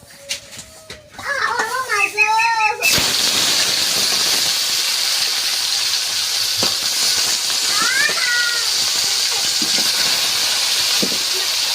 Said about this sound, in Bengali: তেলটা গরম হয়ে গিয়েছে এবার মাছগুলো দিয়ে ভেজে নিচ্ছি